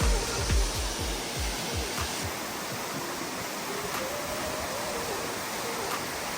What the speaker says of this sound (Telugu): Siddheshwara Kona water falls